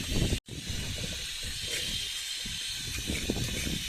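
Food crackles and hisses steadily in hot oil while rava is being made, a dense continuous sizzle that stays close and fairly loud after a brief cut near the start.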